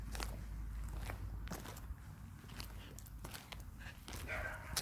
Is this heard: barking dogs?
yes